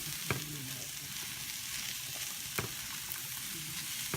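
Potatoes stir-frying in oil in a pan give a steady, fairly quiet sizzle throughout, with two or three sharp utensil clinks against the pan and soft stirring between them; no talking.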